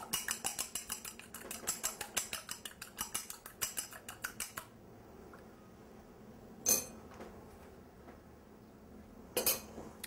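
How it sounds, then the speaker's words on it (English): Two large eggs being lightly beaten in a bowl, a rapid run of rhythmic fork taps against the side for several seconds, then quiet with two brief clinks later on. "I'm gonna lightly beat two pretty large eggs"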